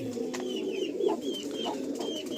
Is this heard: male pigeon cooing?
yes